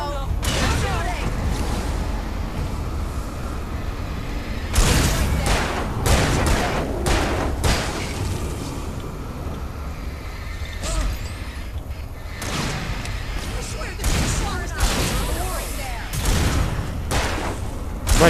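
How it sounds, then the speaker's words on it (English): Gunshots in the Alan Wake video game, a dense series of loud sharp blasts and bursts of fire with booming impacts, coming in heavy clusters across the whole stretch with shouted voices mixed in. "No, you don't! I'm shooting!"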